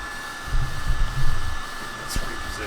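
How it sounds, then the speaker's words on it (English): Fan of a Kaleido M2 coffee roaster runs with a steady airy whoosh, close and fairly loud, with a brief low rumble and a faint click near the end. "Got the fan on. It's a little loud out here"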